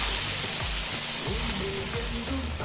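Onions sizzle loudly and steadily in a hot pan in the cooking video game Venba, a continuous close frying hiss with faint stirring underneath.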